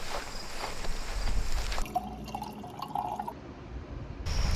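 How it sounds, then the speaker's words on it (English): Ice cold water pouring into a glass, heard as a soft, close trickle and fill for a couple of seconds after some quieter outdoor background noise. "Now it's time for me to get an ice cold glass of water"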